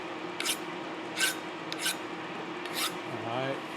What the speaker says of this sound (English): I'm just going to take a file and just make sure I've got nice no burrs there where I'm clamping down the table